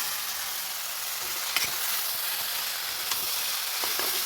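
Pasta tipped into a frying pan over fried ingredients sizzles in a steady, close hiss, with a couple of faint clinks from a utensil and no voices.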